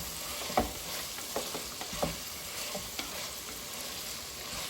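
Soya chunks being stirred into a drumstick curry frying in a pan, a low steady sizzle with several soft scraping strokes spread across the clip, close by and with no talk.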